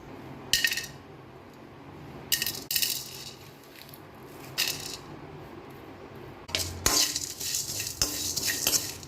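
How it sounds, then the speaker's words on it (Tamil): Masala ingredients dry roasting in a kadai over a low flame, with bright clinking scrapes of a metal spoon against the pan in short irregular bursts over a quiet background. "நம்மளோட மசாலா இன்க்ரீடியன்ட்ஸ் எல்லாமே வந்து லோ ஃப்ளேமில் வச்சு நல்லா ட்ரை ரோஸ்ட் பண்ணிக்கலாம்"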